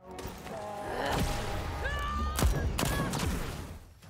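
Weapons fire in the video game Deathloop, including the Vopat Trencher and 4 pounder: a few sharp blasts and impacts over a busy game soundscape with tonal effects, moderately loud.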